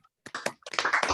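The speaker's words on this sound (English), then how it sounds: "join me in a round of applause to Nicki" Several people clap in uneven, sparse bursts over an online video meeting, the claps thin and close-miked as if coming through separate home microphones, starting faintly and building into a scattered patter without speech.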